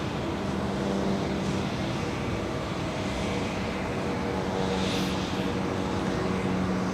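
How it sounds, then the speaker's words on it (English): Steady broadband roar of an Airbus A321 airliner arriving at Los Angeles airport, a continuous engine rumble with faint whine, fairly distant and unbroken with no talk. "It's an A321."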